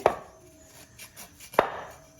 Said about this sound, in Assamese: ইয়াত দেখিছে বাইদেউ কঁঠাল কাটিছে